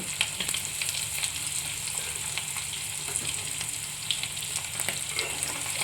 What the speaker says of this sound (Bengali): এটা একটু হালকা আমি ভেজে নেব